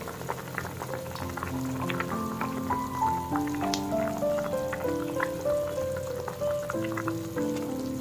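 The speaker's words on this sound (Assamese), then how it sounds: "জোলখিনি যিহেতু এতিয়া উতলিছে সেইকাৰণে মাছ কেইপিচ দি দিওঁ ইয়াতে।" Fish curry broth boiling in a pot while cooking singhi fish, giving a constant close bubbling and popping with scattered small splashes, with no voices.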